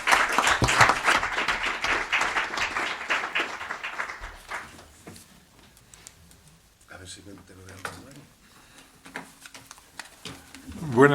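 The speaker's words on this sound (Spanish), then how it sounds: "Un fuerte aplauso para recibir a don Carlos Manuel Ruspoli" An audience at a Spanish book launch gives a warm round of applause to welcome the author, dense clapping that is loud at first and then thins to scattered claps.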